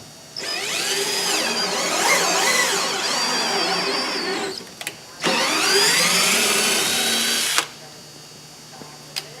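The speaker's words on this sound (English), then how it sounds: "We're just drilling through the fiberglass on this side." A power drill whines loudly through fiberglass in two sustained bursts, the pitch rising and dipping under load, with a short pause between them and quiet after.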